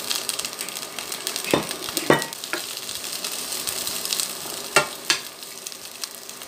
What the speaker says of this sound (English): I'm going to stir fry my vegetables.